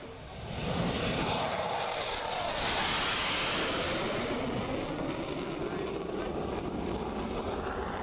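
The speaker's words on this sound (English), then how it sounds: "performed the takeoff and landing exercises" An aircraft performs takeoff and landing exercises on an expressway in India used as an alternative runway. A loud, sustained engine roar fills the whole stretch without a break, with no talking.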